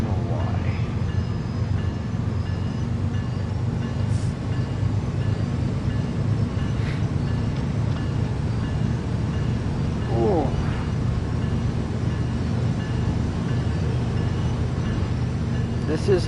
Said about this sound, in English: This is long train.